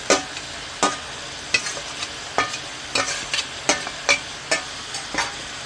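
Beans stir-fried with minced pork for Thai basil pork (pad kra pao), a spatula scraping the pan in repeated sharp strokes over a steady sizzle, close and fairly loud, with no talking.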